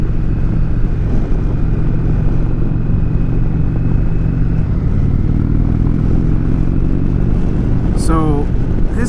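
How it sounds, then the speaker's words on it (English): Steady wind rush and engine drone from a 2019 Indian Chieftain motorcycle at riding speed, loud and continuous throughout with a brief burst near the end. "I feel like there's so much more wind noise to this bike for some reason"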